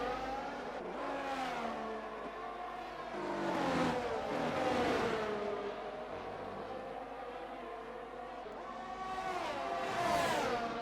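Race cars in an F1 racing video game at Zandvoort scream past, their engine notes rising and falling in repeated swells as they accelerate close by and overtake, with a steady engine drone between the passes.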